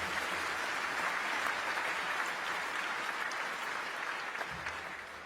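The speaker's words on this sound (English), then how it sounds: "Give yourself a round of applause" A large audience at a basketball Hall of Fame induction applauds in a sustained, even wash of clapping, heard from a distance and slowly fading near the end.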